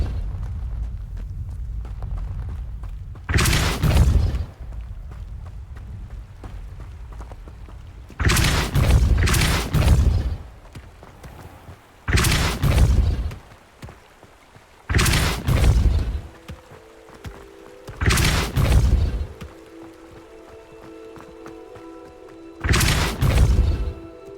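Spell impacts from the Depulso force spell in the Hogwarts Legacy video game land as six heavy, booming blasts, some in quick pairs, with quieter rumbling gaps between them.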